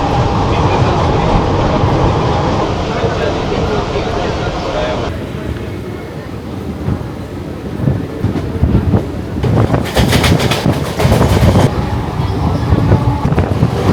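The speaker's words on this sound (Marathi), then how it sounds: "मुंबई लोकलचा प्रवास." Mumbai local suburban train ride, with a steady loud rumble of the carriage and wind buffeting throughout, a shift in tone midway and clattering bursts near the end.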